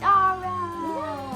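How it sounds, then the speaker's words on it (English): A house cat meows once in a long, drawn-out indoor call, close and fairly loud, with a person's voice briefly speaking over it. "That's a cat."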